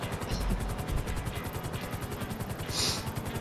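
A Grand Theft Auto V helicopter churns with rapid, regular rotor beats over a steady engine drone, close and continuous, with a brief hiss partway through.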